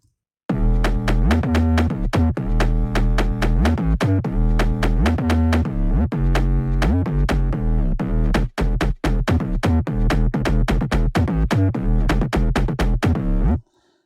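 A punchy synthesizer bass line plays alone, repeating a rhythmic pattern of loud, sustained notes with short stabs and a brief gap near the end.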